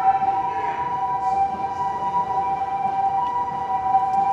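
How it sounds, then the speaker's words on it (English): Ambulance siren on a street in Minami, Osaka, holding a steady loud wail throughout, close and continuous under faint background street noise. "Wow, that's a really loud siren."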